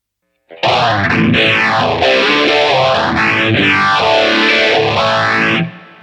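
Distorted electric guitar chords through a Line 6 POD Go modulation effect ring out with a sweeping, swirling modulation that rises and falls in slow waves, loud and alone.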